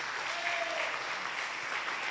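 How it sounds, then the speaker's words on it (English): Audience applause in a church gathering, a moderately quiet wash of clapping that stays steady for a couple of seconds, heard from some distance with a faint tonal hum beneath it. "a huge round of applause"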